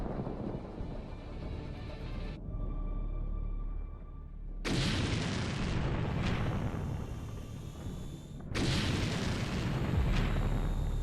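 Heavy blasts from strikes on a military convoy, likely cluster munitions hitting halted vehicles in the Ukraine war, with deep rumbling booms that cut in sharply twice and roll on loudly in between, with no voices.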